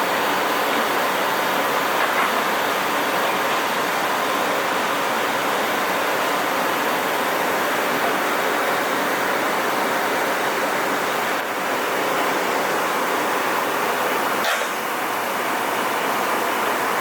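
A belt sander with a Scotch-Brite belt runs on metal, a loud continuous broadband whir that holds steady for the whole stretch with no breaks and no talking.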